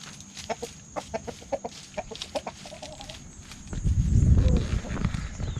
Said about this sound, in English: free-range chickens and roosters. They wander around all over the place in this country.